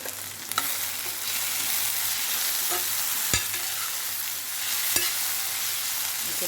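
Eggplant fries in a pan with a steady, close sizzle and faint crackle running throughout. A few sharp clicks of stirring break in briefly along the way.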